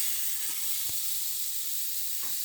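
Chicken sizzling in a new pan over medium heat, a steady bright hiss close by, with a few faint pops and stirring sounds breaking through.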